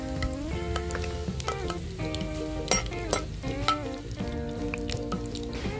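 Fennel seeds, cinnamon, cloves, star anise and cardamom sizzle in hot oil or ghee, with a steady crackling fry. Occasional stirring clinks sound over it, and a melodic background tune plays underneath.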